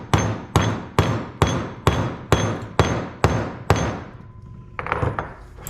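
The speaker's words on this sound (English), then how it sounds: "we're just going to take this die and we're going to tap" A hammer taps a mokume gane ring seated in a metal die, eight sharp evenly spaced ringing strikes in quick succession, then a pause and a softer cluster of lighter taps, close and loud.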